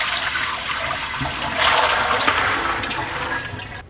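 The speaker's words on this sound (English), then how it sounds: "Now I'm just going to drain them and rinse them again." Soaked beans drained and rinsed at home, with a steady rush of running water that swells midway and then tapers off, with no talk.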